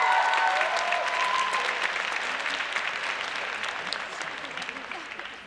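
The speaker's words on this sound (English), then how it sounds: "Please give another round of applause to one of our local Pittsburgh gurus, Srimati Shambhavi Desai." Applause from an audience at a Pittsburgh Indian dance event, a full wash of crowd clapping that starts strong and gradually fades over several seconds, with a brief trace of a voice early on.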